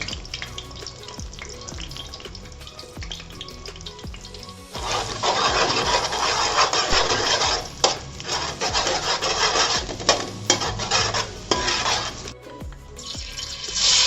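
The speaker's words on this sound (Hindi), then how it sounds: "अब हम इसे स्क्रम्बल करके लेंगे" Eggs are scrambled in a pan: a spatula scrapes and stirs against the metal, with a soft sizzle that grows louder partway through.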